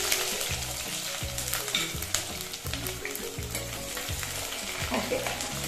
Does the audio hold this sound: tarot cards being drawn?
no